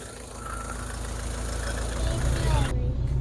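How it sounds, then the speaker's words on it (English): A Rover 25 GTI petrol engine idles steadily at low revs after a head gasket replacement, a constant close rumble that swells slightly toward the end. "Engine's on, car's ready to go."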